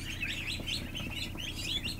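Many ducklings peep together in a dense, constant chorus of high chirps on an indoor floor, with a steady low hum underneath.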